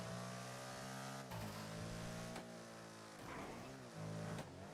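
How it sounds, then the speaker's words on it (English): A Shyster car engine revs in a video game, with a buzzy, go-kart-like whine that climbs in pitch and drops back in several short surges. It is loud and close, with no talk over it. "No, this is definitely not electric. Sounds like a go-kart."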